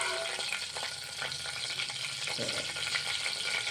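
Curry leaves fry in hot oil for fried rice, giving a brief, steady crackling sizzle with light stirring. It lasts under four seconds with no voices.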